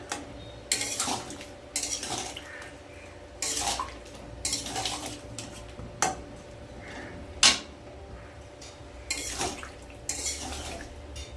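Spoon scraping and knocking inside a pot of potato, pointed gourd and cauliflower curry with ghee, bursts of stirring with metallic clatter and a few sharp taps, close by.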